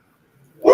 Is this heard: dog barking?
yes